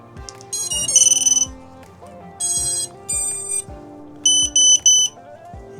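Startup beeps from a DJI O4 air unit on a GepRC Cinelog30 V3 three-inch cinewhoop: several bursts of high electronic tones, clear and close, with low clicking sounds between them.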